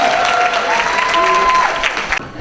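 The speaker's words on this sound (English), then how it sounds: "can we give Sasha a huge round of applause" A crowd at a charity fundraiser dinner applauds warmly and steadily, with a few whistles riding over the clapping before it cuts off abruptly.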